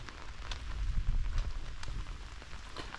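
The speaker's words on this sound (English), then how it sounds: "Oh, good. still raining." Steady rain patters on a wet trail several miles into a backpacking hike on the Laurel Highlands Hiking Trail, a dense continuous hiss with scattered louder drops close by and no voices.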